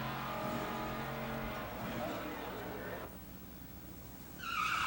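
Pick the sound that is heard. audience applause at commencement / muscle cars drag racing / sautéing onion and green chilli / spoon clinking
muscle cars drag racing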